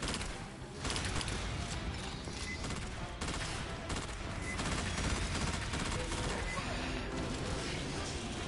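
Sustained gunfire blasts through a frantic firefight in the sci-fi shooter game Alien Fire Team, rapid shots layered densely and loudly over constant battle noise, with a voice briefly heard under the din.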